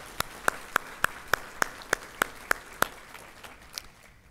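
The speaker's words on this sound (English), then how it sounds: "let's join us and give them a round of applause" Slow, steady clapping at the 2021 OCPS State of the Schools event, about a dozen evenly spaced crisp claps that fade toward the end, with no voices over them.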